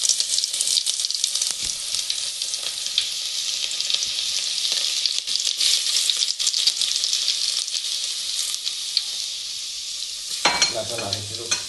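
Crushed garlic sizzles hard in hot oil for urad dal, a loud, dense, steady frying hiss close up that cuts off near the end with a brief clatter.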